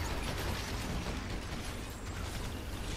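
A loud, sustained blast and rumble from an antimatter explosion in the video game Evolve, dense and continuous across the whole stretch with crackling bursts and no clear pauses.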